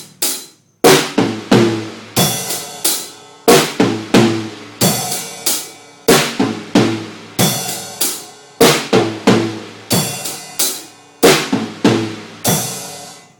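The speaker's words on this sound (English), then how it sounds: "then a 2, 3 on the tom, and then finish with the cymbal and the kick" Drum kit pattern played over and over, tom hits followed by a crashing cymbal and kick drum, each phrase decaying before the next, loud and close with steady rhythm.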